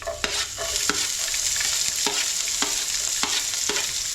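Mustard seeds, curry leaves, green chilies and onion frying in hot oil, a continuous loud sizzle punctuated by regular sharp crackles and pops roughly every half second, nearby and without voices.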